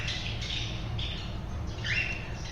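Pet cockatiels in a cage give a few sharp squawks and chirps, moderately close, over a low background hum, with no talking.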